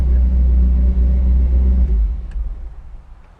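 A truck engine idles with the choke set while warming up, a steady low rumble that holds close and loud, then eases and settles lower toward the end, with no talking.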